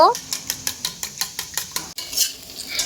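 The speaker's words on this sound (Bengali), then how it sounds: "ডিমের মধ্যে আমি লবণ দিয়ে ডিমটা ভালোভাবে ফেটিয়ে নেব" Four eggs with salt beaten in a bowl: quick, evenly spaced utensil clicks against the bowl, about four strokes a second. A brief voice sounds at the very start, and the beating then fades into softer scraping.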